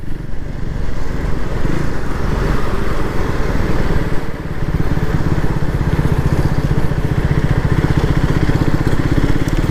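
A Triumph Speed 400 motorcycle ridden in fourth gear at low speed, with a steady, continuous engine drone and thrum close by, holding throughout with only a brief dip midway.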